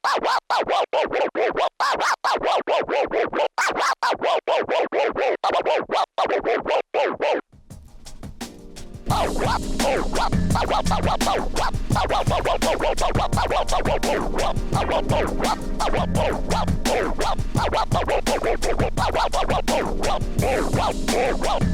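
Baby scratch performed on a DJ controller turntable jog using an 'Ah Yeah' vocal sample: rapid choppy back-and-forth scratch bursts, then a denser continuous stretch of scratching over a loud, steady backing track.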